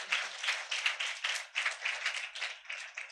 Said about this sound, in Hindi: ताली को बजाओ